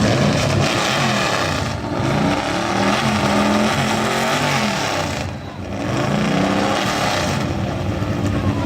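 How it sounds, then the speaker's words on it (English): A race car engine at a drag racing event screams at high revs, with a dense, loud roar that dips briefly and surges again, heard close and continuous throughout. "Oh, CJ, he likes the RPM, that's easy"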